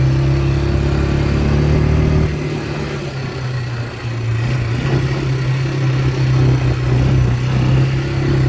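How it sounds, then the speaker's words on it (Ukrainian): A Mikilon Hardy ATV with a 176cc engine tows a trailer loaded with 800 kg over rough, potholed roads. The engine drones steadily and loudly throughout, with a brief easing of pitch partway through. "Двигун 176 кубів. І він легесенько собі їде там з прицепом, з навантаженням 800 кг на секундочку."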